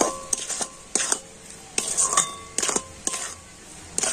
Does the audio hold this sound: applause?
no